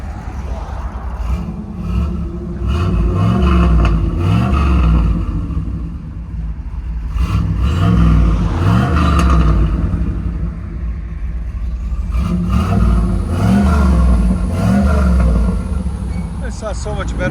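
A 1986 Pontiac Trans Am with a 5.7L V8, headers and a Flowmaster 80 Series exhaust revs in repeated loud surges, a deep rumbling roar rising and falling close by, with people talking over it.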